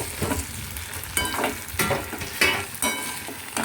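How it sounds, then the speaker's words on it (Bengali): Taro (gati kochu) cooking in an aluminium wok is stirred with a spatula: a run of scraping strokes at a steady rhythm over a soft, continuous sizzle, close and fairly loud. "এবার আরেকবার একটু ভালো করে নেড়ে ছেড়ে"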